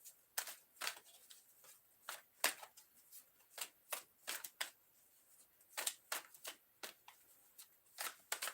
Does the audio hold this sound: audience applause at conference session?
no